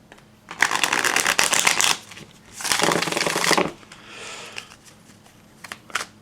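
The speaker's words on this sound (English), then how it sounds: "I'm going to shuffle it again because that's not how we pick the cards." A deck of tarot cards is shuffled in two distinct riffling bursts, close and crisp, followed by a few lighter card taps and handling sounds.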